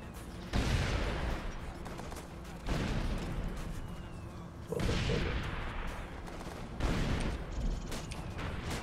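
Artillery barrage from a military shooter video game, with four heavy rounds slamming home about two seconds apart, each a loud booming burst that trails off into rumbling debris, over continuous battlefield noise.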